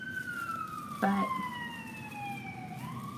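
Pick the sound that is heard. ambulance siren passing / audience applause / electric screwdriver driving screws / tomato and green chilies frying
ambulance siren passing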